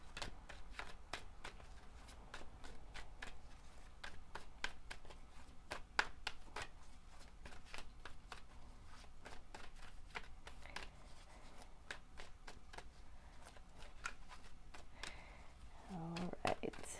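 Tarot cards are shuffled close by in a long run of crisp riffling clicks and snaps that continue steadily and fairly quietly.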